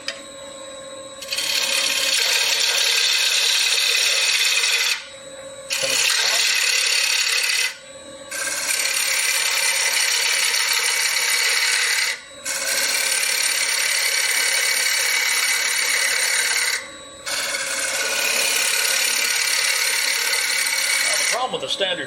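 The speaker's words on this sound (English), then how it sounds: "With a standard gouge like this and a very deep narrow bowl is I can't stay on the bevels." Wood lathe turning a deep, narrow dried green bowl with a standard gouge: a steady, loud broadband cutting rasp in four long passes with brief gaps between them, motor hum underneath.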